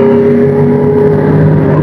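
Big bike motorcycle passing on a mountain road, a loud, close, sustained engine drone with a steady tone throughout, no talk heard.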